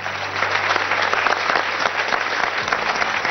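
An audience gives loud, dense applause to a homeopathy doctor's team that runs unbroken for the whole stretch and thins slightly toward the end.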